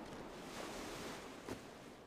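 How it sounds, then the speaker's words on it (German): Wind blowing steadily across an open landscape in the fantasy survival sandbox game Savage Lands, a broad continuous rushing hiss with a brief gust, heard alone without talk. "es ist hier windig"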